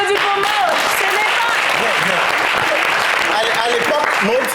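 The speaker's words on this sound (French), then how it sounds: "On applaudit pour moi." Steady, dense audience applause from a live TV show crowd, loud and continuous throughout, with voices shouting over the clapping.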